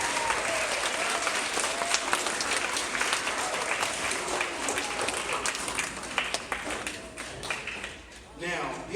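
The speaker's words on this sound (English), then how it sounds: "let's give ourselves a round of applause" An audience bursts into sustained applause, a dense wash of clapping that carries on for several seconds before thinning near the end, with some voices mixed in.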